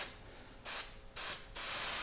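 Three short hissing bursts of aerosol spray, each about half a second, separated by brief pauses, close by over quiet background.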